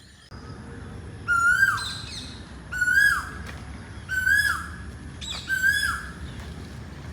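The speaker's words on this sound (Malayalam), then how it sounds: "രാവിലെ തന്നെ ഇങ്ങനെ വെറും കിളികളുടെ ശബ്ദം." Birds call on a morning golf course in Kharghar, with four evenly spaced loud whistled chirps over a low steady background hum, no talking.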